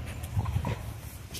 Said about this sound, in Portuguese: Olha, tá até roncando.